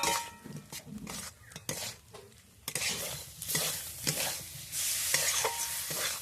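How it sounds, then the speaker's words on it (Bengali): Fried pointed gourd is stirred in a pan of thick, drying spice paste, with the spoon scraping and clattering against the metal over a steady, fairly loud sizzle throughout. "ভেজে রাখা পটলগুলো দিয়ে দেবো, ভালো করে কষিয়ে নেব আবারও।"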